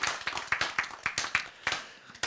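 An audience at a lecture on the Bible and science claps together, a brisk burst of many quick, sharp hand claps in rough rhythm, close and fairly loud, lasting a couple of seconds.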